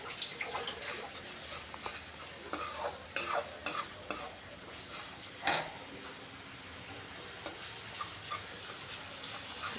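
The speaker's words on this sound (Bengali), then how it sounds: "খুব ভালো করে এখন কষিয়ে নিচ্ছি।" Spices with Kashmiri red chili powder fry in a pan under a constant soft sizzle, while a utensil stirs and scrapes in irregular clinking strokes, a few sharper knocks standing out.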